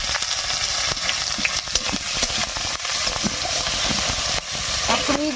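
Chopped onion sizzling in hot oil with whole garam masala and cumin, a loud, continuous close-up hiss with occasional stirring scrapes and small crackles.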